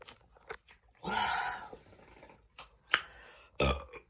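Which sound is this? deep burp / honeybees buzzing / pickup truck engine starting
deep burp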